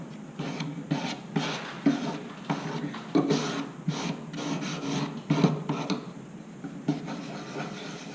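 Soft, steady back-and-forth rasping of 280 grit abrasive sanding a piece of jewellery, repeated scrubbing strokes in a loose rhythm, close up and fairly quiet with no voices.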